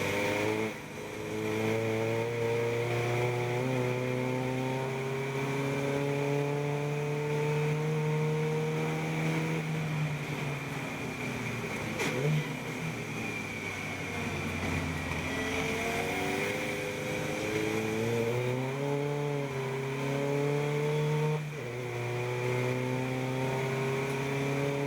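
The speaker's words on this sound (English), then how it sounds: "Higginson is now coming under pressure from Honeybone. It's Clio versus Civic" A Renault Clio and a Honda Civic race car circling Oulton Park during a trackday championship race, a continuous engine drone with rising and falling pitch as they pass and shift, steady and fairly loud throughout.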